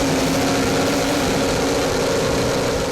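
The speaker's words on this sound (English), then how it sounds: "Richard Carr's Honey Party, with that distinctive exhaust note from the twin 850 Chieftain supercharged engines" A powerboat with twin 850 Chieftain supercharged engines rumbles in a loud, steady, deep exhaust drone during an offshore race, unbroken throughout with no voices.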